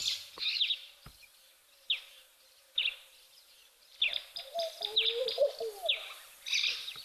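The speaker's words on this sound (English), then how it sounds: "I'm sure there's plenty of other birds from what I can hear." Birds calling at an outdoor waterhole where a laughing dove drinks: repeated short chirps and whistles, close and clear, in loose bursts with brief pauses, against near silence.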